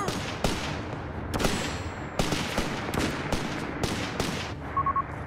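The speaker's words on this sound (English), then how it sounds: "Taking small arms fire here!" Small arms gunfire in Company of Heroes 3 cracks out in a rapid, irregular series of sharp shots, some single and some in bursts, with a brief electronic beep near the end.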